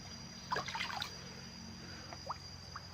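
Water carrying catfish fry pours from a container into an earthen pond, making a short burst of splashing and trickling. A few faint drips follow against quiet outdoor background noise.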